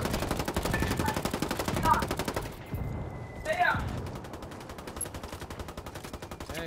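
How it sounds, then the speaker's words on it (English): Sustained rapid automatic fire in Ghost Recon Wildlands Ghost War, with dense repeating shots that pause briefly and then resume, loud and close, with a voice talking faintly underneath. "I just assumed he was gonna be there and just started firing down the alley"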